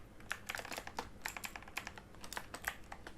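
Someone types on a computer keyboard in quick, uneven bursts of light clicking keystrokes, close and quiet, with no talking.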